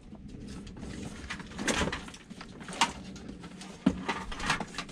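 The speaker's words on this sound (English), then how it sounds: "sounds like a commotion out here, bird wise. What's occurring? Pigeons" Pigeons coo and flutter outdoors near a bean tree, soft repeated coos mixed with wingbeats and rustling at moderate distance, amid light background noise.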